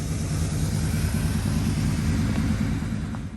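An old farm truck engine idles steadily at close range in freezing winter weather, a continuous low rumble with a throbbing, pulsing beat and no voices.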